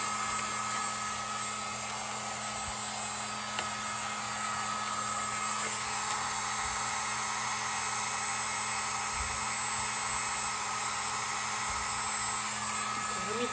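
Hot air from a heat tool blows over fabric to heat-set a no-sew placemat pillow: a continuous, even whirring hiss that holds at a low level throughout, without noticeable change.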